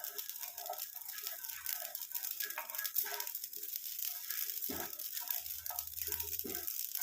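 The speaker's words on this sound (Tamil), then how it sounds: "கசகசா பாருங்கள் பொரிய ஆரம்பிச்சிருச்சு, எப்படி பொரியுது பாருங்கள்." Poppy seeds (kasakasa) frying in a hot pan, a steady crackling sizzle with scattered small pops and crunchy bursts, close and fairly quiet, with no voices.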